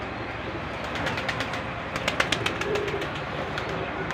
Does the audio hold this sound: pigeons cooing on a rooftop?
yes